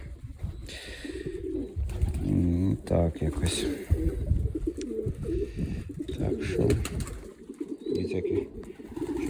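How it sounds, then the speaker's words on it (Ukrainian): Domestic pigeons coo repeatedly at close range in their coop, with soft wing and scuffling sounds and a person speaking briefly among the calls. "Ну це класні голуби, да."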